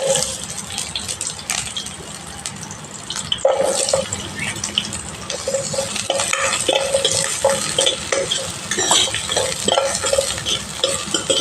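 Green chillies and onions fry in a little oil for peanut chutney, giving a continuous close sizzle with frequent stirring scrapes and occasional clatter of a pan and utensil.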